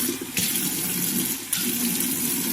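Water runs from a bathroom tap during face washing, a steady gushing stream with a couple of brief splashy surges as hands move through it.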